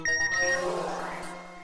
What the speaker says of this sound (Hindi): ओहो, ये फोन और मैसेज तो सोने ही नहीं देंगे।